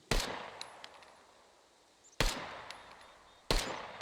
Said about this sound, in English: We'll first shoot it without a suppressor at all, with the red dot sight.